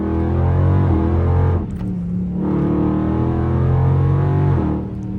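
A Dodge Scat Pack revving hard while driving on snow in second gear: a loud, close, droning engine roar that briefly drops off mid-way, then climbs and holds again, with no voices.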